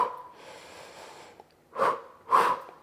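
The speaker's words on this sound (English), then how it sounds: "just breathe with me in and out" Two deep, audible breaths during a Pilates ab workout, sharp and close with a soft hiss of air, following a quieter stretch of steady background breathing.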